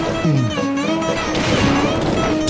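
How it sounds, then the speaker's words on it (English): A loud crash of a toy train with clattering impact noise over a busy musical background, brief and close. "They crashed."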